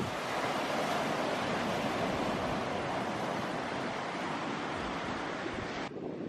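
Ocean waves crashing against a tropical island shore, a loud, continuous wash of surf with wind noise, steady throughout.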